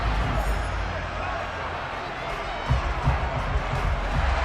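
Home crowd cheering in Madden NFL 23, a steady broadband roar of stadium noise that swells slightly near the end, with game commentary talk over it.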